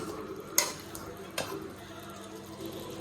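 Chopped onions stirred and frying in a pan while cooking butter chicken, a soft steady sizzle with two sharp scraping clatters of a utensil against the pan.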